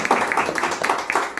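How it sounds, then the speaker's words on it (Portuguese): Church congregation clapping in praise during a Sunday service, a quick, steady rhythm of many hands together, moderately loud and slightly distant, with faint voices mixed in. "aplauda o Senhor então"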